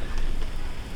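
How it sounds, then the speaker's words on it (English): Heavy rain falling outside a window with a screen, a steady dense hiss of drops hitting surfaces, even and continuous throughout. "Just to give you a bit of an idea of how much it's raining right now"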